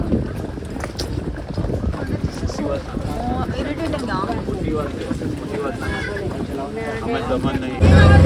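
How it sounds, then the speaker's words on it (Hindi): A boat moves across the water with a steady wash and wind rush against the microphone, while several people talk and laugh close by over the noise. "अब हम बोट में चलने को तैयार हैं।"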